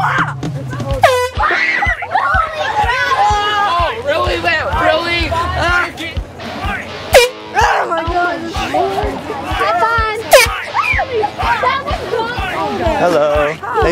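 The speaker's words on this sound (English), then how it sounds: "blow these air horns" Loud air horn blasts repeat in short bursts over a noisy crowd of shouting and chatter, close and harsh.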